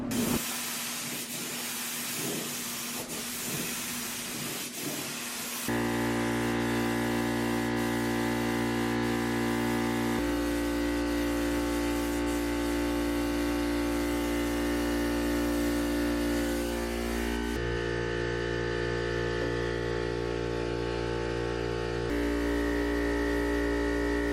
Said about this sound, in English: Then I'll go ahead and spray my last layer of clear.